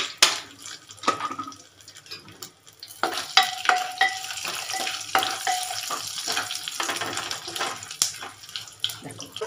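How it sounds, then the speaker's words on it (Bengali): Whole cardamom, dried red chilies and cumin seeds tempering in hot oil, with an irregular crackle and sizzle, sharp popping spits and occasional stirring clatter, fairly close. "এলাচ, গোটা শুকনো লঙ্কা, কিছুটা সাদা জিরে দিয়ে ফোড়ন দিয়ে দিচ্ছি।"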